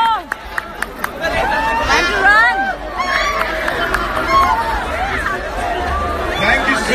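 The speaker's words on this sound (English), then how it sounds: "See this amazing, amazing crowd of Guwahati." A crowd gathered at a Bipasha Basu event in Guwahati, loud chattering babble with shouts, whistles and cheers rising and falling continuously across the whole stretch.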